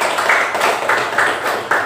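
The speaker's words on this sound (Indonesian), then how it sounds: "Sekali lagi tepuk tangan untuk semua" A Grade 4 class in an Indonesian madrasah claps together in a steady, continuous patter that stays loud and fairly even through the whole stretch, with no voices standing out.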